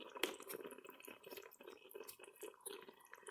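Heavy cream is poured into a Ninja Foodi cooking pot in a soft, close liquid stream that gurgles and drips steadily for a few seconds, with no speech over it.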